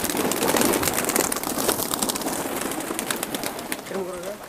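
Flying and breeding pigeons cooing while being fed together, with low coos under a dense wash of rustling noise and people talking nearby.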